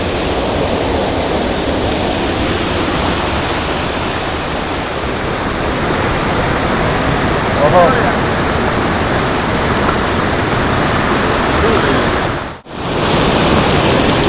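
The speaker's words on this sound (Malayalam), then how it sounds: "നല്ല പ്രഷറുണ്ട് നല്ല പ്രഷർ വെള്ളത്തിന്" Strong, pressurised water rushes continuously over a check dam at Kundumon in Kollam, a loud, steady roar close by that holds for the whole stretch and drops out only briefly near the end.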